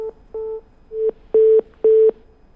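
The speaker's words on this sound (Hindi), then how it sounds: "चलिए फोन शायद डिस्कनेक्ट हो गया।" A telephone line goes dead mid-call, leaving a series of steady busy tones: several separate beeps, short at first then longer and louder, each cut off by a brief gap, with no talking.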